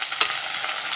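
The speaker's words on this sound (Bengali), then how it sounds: "এবার আমি দিয়ে দিচ্ছি কেটে রাখা আলুগুলো" Potatoes and onions frying in hot oil, a bright, continuous close sizzle with a brief stirring scrape near the start, no voices.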